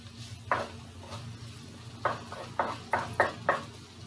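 Onions and peppers cook in a skillet on a hot plate, a low steady sizzle punctuated by a series of sharp spatula scrapes and stirs, several in quick succession near the end.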